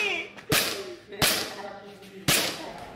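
Three sharp, loud cracks from a toy gun in a shooting challenge game strike at roughly even intervals, each a sudden snap followed by a brief tail of faint background noise.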